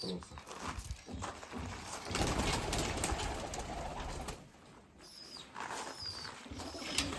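Pigeons and pigeon chicks coo faintly and flap their wings close by in a loft during feeding, under a steady rustling background while a person talks.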